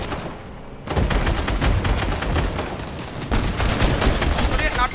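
Dense bursts of gunfire crackle continuously through an arena battle video game, loud and close, starting after a brief quieter moment and continuing throughout, with speech mixed in.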